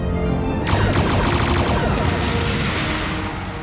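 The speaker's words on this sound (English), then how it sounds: "after the torpedo exploded and the race started" A torpedo blast signals the start of a shuttle race in Star Trek: Voyager: a sudden loud boom with a broad crash at once, then a dense rumble and a crackling roar that carry on and slowly fade.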